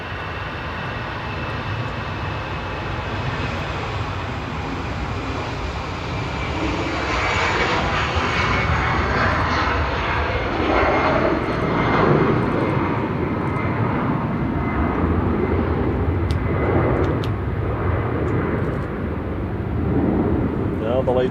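An Airbus A380 departing Manchester Airport for Brussels rumbles steadily with engine noise that swells and peaks midway, then stays broad and loud, while a voice talks over it at times.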